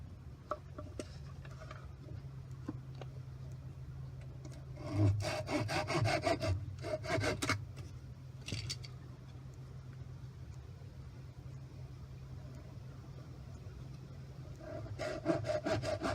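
A handsaw cuts through the top of a small standing tree outdoors, rasping in a few short bursts of stroking, fairly close, over a steady low hum in the background.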